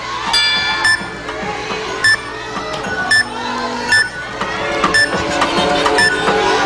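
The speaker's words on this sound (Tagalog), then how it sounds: "Timer!" A countdown timer on the Philippine noontime game show Eat Bulaga! pulses with sharp electronic beeps roughly once per second, loud and regular, over a busy studio background.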